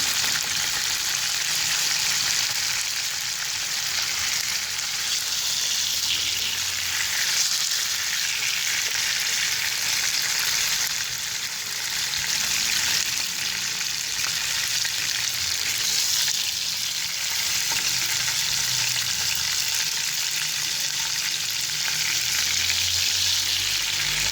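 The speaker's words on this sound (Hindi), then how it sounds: "और इसे भी मैं पहले वाले पीसेस की तरह फ्राई कर लूँगी दोनों साइडों से।" Chicken pieces frying in a pan for Afghani chicken, with a steady, loud, dense sizzle holding level throughout, with no talking.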